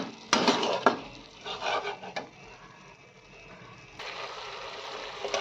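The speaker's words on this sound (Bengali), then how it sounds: "জল দিয়ে ভালোভাবে মশলাগুলোকে মিশিয়ে নেব।" Spices being stirred with a splash of water in a pan for a chicken and potato curry, a few clear metallic scrapes and clinks of a spoon against the pan, then a soft steady sizzle, close and moderately quiet.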